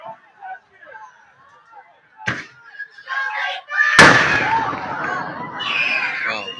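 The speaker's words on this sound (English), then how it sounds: "looks like there's some fireworks going off with 9 seconds on the clock" Fireworks go off at a high school football game near the end of play, with sharp booming bangs followed by crackling bursts. A crowd murmurs and shouts loudly underneath.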